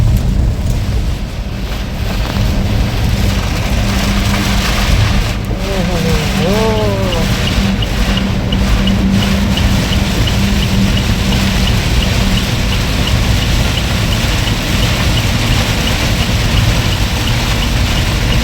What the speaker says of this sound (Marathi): हा पाऊस मजबूत पाऊस आहे